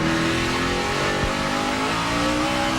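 NASCAR stock car engine accelerating during the 2006 Dodge Save Mart 350 at Infineon, a sustained loud harmonic roar with rising pitch and a brief low thump midway, no talk heard.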